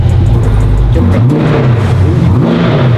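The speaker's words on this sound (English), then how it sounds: "Give it one rev, one low one." A supercar engine idling loudly in an enclosed garage, with a low, deep rumble that swells into a brief rev and settles back, close and dominant throughout.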